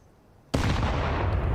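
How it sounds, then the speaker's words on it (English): A grenade goes off in Counter-Strike: Global Offensive during a BLAST Fall Groups 2022 esports match, a sudden loud booming blast after a quiet start that holds on as a dense, roaring rumble. "Another decent nade."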